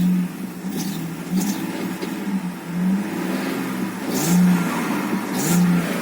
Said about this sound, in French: On va mettre un petit bout de gaz.